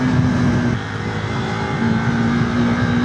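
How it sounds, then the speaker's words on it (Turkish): A KTM RC390 sport motorcycle engine roars loudly and steadily close by as it accelerates, its high whine holding strong as it speeds along. "açtığın zaman hızlanıyor motosiklet yani gördüğün gibi"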